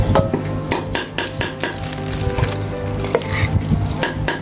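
Minced buffalo larb, northern Thai style, is mixed by hand with spices in a bowl, giving a steady run of close, soft clicking and scraping strokes at a busy, even rhythm.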